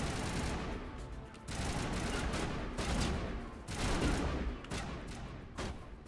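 Dense, continuous gunfire from a firefight in the video game Mass Effect, with sustained volleys and booming bursts that swell and dip in bursts, loud and close throughout without clear talk.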